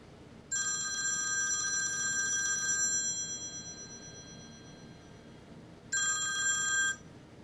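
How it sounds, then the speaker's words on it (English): A telephone rings in two bursts of bright electronic trilling, a long ring of about two seconds, a pause, then a shorter second ring. It is moderately quiet with no talk over it. "sorry, my phone was ringing again. I gotta turn that thing off."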